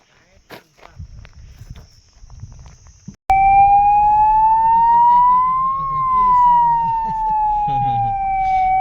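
A loud electronic siren switches on suddenly and wails in a slow rising and falling tone, close by, after some quiet shuffling and a few faint voices.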